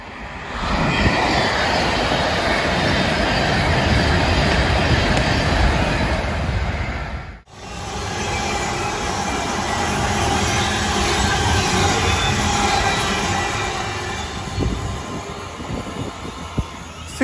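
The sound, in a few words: train passing through station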